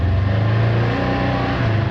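A Polaris RZR side-by-side with its old windshield fitted, driven steadily with a loud, constant engine drone and a faint rise and fall in pitch, heard close with no talking.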